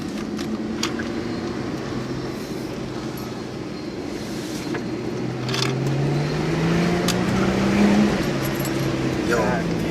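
An Audi B5 S4's engine drones steadily from inside the car, its pitch slowly rising as it accelerates gently, with faint road and wind noise underneath.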